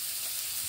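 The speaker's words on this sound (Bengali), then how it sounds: "এখানে আমি একটু নুন দিয়ে ভেজে নেব সজনে ডাঁটাগুলো" Moringa drumsticks frying with salt in hot oil in a pan, a steady close hiss and crackle running without break.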